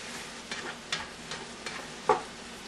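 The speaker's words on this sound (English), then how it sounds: "Get it all stirred up, kind of cooking together" A spoon stirs bacon, celery, onions, garlic and paprika in a sizzling frying pan for jambalaya, several scraping strokes spaced about half a second apart over a steady low fry, with one sharper clatter near the end.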